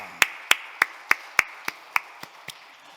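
A church congregation at an early-morning special prayer service claps about ten times in a slow, even rhythm, each crisp clap distinct and moderately near in a quiet room.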